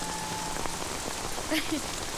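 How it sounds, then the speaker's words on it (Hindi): Steady rainfall drenching a man standing alone outdoors, a soft continuous patter under faint tonal sounds and brief chirps. "अकेले अकेले बारिश में भीग रहा है?"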